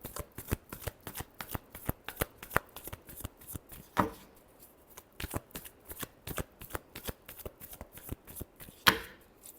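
Tarot cards are shuffled by hand in a rapid, rhythmic series of crisp riffling slaps, close and clear, continuing for several seconds with a couple of louder snaps.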